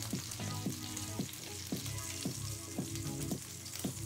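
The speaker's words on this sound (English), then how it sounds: "And the idea is to brown them all over, all sides and the end too." Lamb shanks sizzle steadily as they brown in a hot pan, a dense continuous frying hiss with occasional soft knocks as the meat is turned, no voices.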